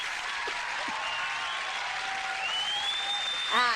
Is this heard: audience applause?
yes